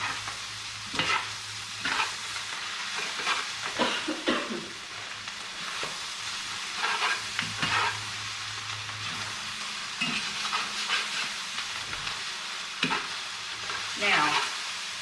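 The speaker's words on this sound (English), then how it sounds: "we're starting to scrape the bottom of the pan" Ramen noodles fry and sizzle steadily in a pan, with repeated stirring and scraping of the pan bottom in irregular bursts at close range.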